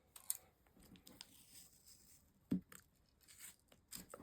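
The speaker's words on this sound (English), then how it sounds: "Now this tape does tear as well, so you can rip it out." Tape torn by hand to size for the inside frames of a beach-themed tunnel album, a faint, quiet papery rip with one sharper tear standing out partway through.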